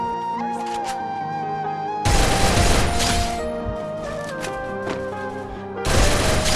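MP40 submachine gun fire in a video game comes as loud, dense bursts of rapid shots over ongoing game music, with a heavier burst near the end.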